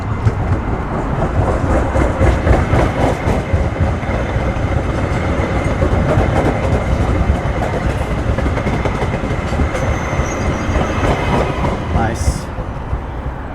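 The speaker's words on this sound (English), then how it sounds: "Oh, here comes the train." A train rumbles steadily past nearby, wheels clattering rhythmically over the rails, with a brief high squeal near the end.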